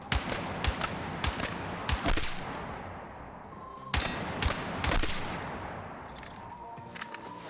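Video game rifle fire rattles out in repeated bursts of sharp, loud shots with short gaps between volleys, some spaced singly, with faint metallic clicks in between.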